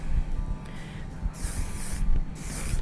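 Hairspray hisses in several bursts onto hair pushed back with the fingers, a close pressurized spray repeating in short pulses.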